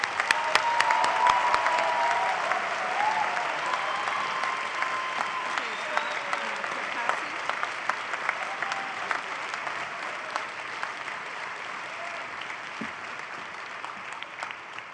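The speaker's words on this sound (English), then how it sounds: "give a round of applause to those who've already crossed the stage" Crowd at a spring university convocation ceremony gives a long, steady round of applause for graduates, starting with a few sharp near claps and continuing as dense, even clapping throughout, with faint voices underneath.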